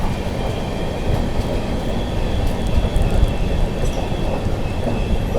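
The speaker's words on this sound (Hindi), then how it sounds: "देखिए वर्धा की और जो है कोई ट्रेन जा रही है" Another train runs past at Sevagram junction heading toward Wardha, a steady, fairly loud rolling rumble of wheels on rails with faint squeal and clatter, continuous throughout without talk.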